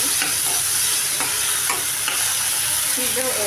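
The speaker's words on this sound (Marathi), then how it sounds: "आता हे टोमॅटो आणि कांदा चांगल्या प्रकारे शिजवून घेते." Tomato and onion cooking down in a pan for baingan bharta, a loud continuous sizzle broken by repeated scraping stirs of a spoon against the pan, close and steady.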